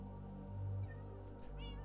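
A cat meows once, short and clear, inside a video game, over a low steady background hum.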